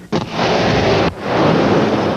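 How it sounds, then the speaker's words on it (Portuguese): A charge of 700 kilograms of explosives detonating along an airstrip, recorded from a helicopter: a sudden loud blast that becomes a sustained broadband roar, then dips and swells again with continuing rumble and rotor noise. "Acompanhe a explosão de outro ângulo com imagens gravadas do helicóptero."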